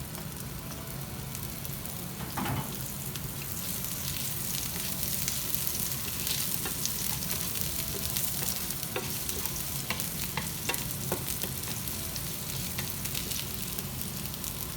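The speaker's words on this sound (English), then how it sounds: "To the oil I'll add my onions and pepper," Onions and pepper fry in a little oil, giving a continuous close crackling sizzle with scattered pops and a few stirring scrapes throughout, with no speech.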